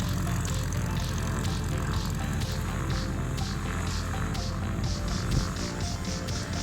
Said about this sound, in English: It has a 65 horsepower engine and it produces a cruise of between 90 and 100 miles an hour.